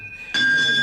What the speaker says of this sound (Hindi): यहाँ घंटी बजती है, पर यहाँ कोई नहीं है। फिर भी घंटी बजती है।